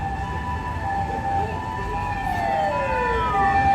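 Two ambulances pass along a street in Tokyo at night, their wailing sirens close and loud, sweeping pitches overlapping and sliding as they go by over steady traffic rumble.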